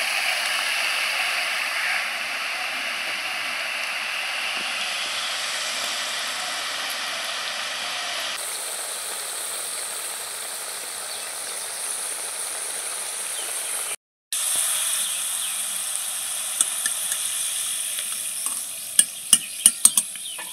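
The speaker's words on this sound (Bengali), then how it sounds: "বাদবাকিগুলো ভেজে নিচ্ছি।" Shredded potatoes deep-frying in hot oil for crispy jhuri aloo bhaja give a steady, loud broadband sizzle that shifts brighter midway, briefly cuts out, then resumes with a few sharp clinks near the end.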